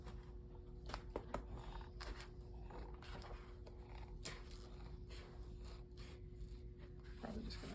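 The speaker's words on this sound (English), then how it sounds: "I'm gonna take the scissors and I'm gonna cut down pretty close to this." Scissors cutting down a foot orthotic, heard as faint creaking and rubbing with scattered sharp snips, quiet and close with no talk.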